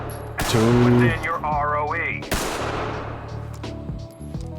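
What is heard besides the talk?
9mm gunshots in video game Ready or Not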